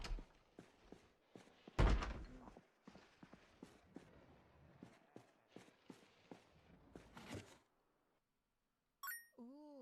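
Zombie scratching and banging at a door in Project Zomboid: a run of irregular knocks and thumps, one heavier slam near the start, moderately close, ending in brief silence and a short electronic beep.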